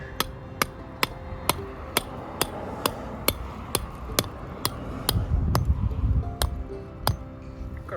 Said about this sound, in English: Maybe I should get like a hammer.